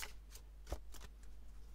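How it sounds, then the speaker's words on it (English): Quick shuffling of a deck of oracle cards gives soft, papery riffles and taps in a brief flurry, faint and close, over a low background hum. "I'll give it a quick shuffle."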